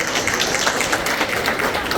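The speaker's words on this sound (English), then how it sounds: "Give yourselves a warm round of applause" Dinner guests at a Thanksgiving appreciation event applaud together in a dense, steady wash of clapping that fills the room, with some voices mixed in.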